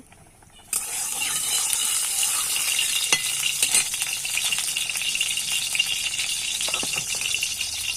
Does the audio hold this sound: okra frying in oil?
yes